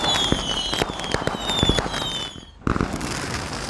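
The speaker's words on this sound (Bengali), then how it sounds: "রাতের বেলায় অনেক দেখছি বোম ফাটছে চারিদিকে" Firecrackers burst all around at night, a string of sharp pops and bangs with whistling rockets rising and fading, some near and others distant, one loud blast near the end.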